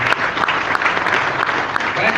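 Loud, dense applause from an audience at a motivational talk, sustained clapping throughout with no pauses.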